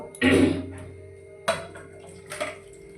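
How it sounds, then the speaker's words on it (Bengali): Fish curry with potato and squash is tipped out of a pan: a loud, wet splashing rush at the start, then a couple of softer clunks and slops of the pan and gravy. "এখন আমি তরকারিটা ঢেলে নেব দেখুন তরকারিটা ঢেলে নেব"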